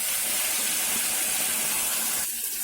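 Ground thuthuvalai paste fries in hot oil in a pan, a loud, close, continuous sizzling hiss that eases slightly at the end.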